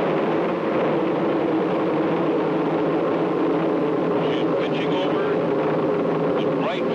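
Space Shuttle STS-6 launch heard over a radio news broadcast: a loud, continuous, dense rumbling roar holding steady throughout, filling the whole clip.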